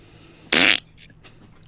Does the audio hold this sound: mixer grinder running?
no